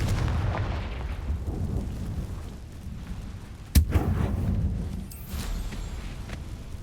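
A Confringo explosive spell goes off in Hogwarts Legacy, one sharp blast near the middle rising over a steady, dense rumble of game ambience.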